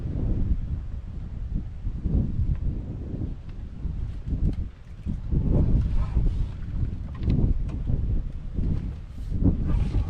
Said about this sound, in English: Because it's so windy now